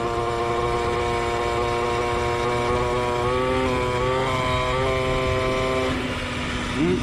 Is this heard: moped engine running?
yes